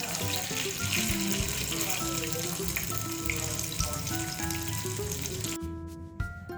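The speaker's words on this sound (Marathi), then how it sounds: "पॅनमध्ये तेल गरम करायला ठेवायचं आणि ह्या वड्यात तळून घ्यायचं आपल्याला छान गोल्डन ब्राऊन करून घ्यायचा" Sliced fenugreek (methi) vadi fry in hot oil in a pan, a dense steady sizzle running throughout under background music, ending abruptly near the close.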